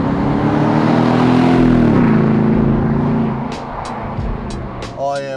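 A Nissan Y62 Patrol fitted with a Legendex exhaust revs up, a deep throaty engine note that climbs and then eases down, loud and close, fading to idle before a short whine near the end.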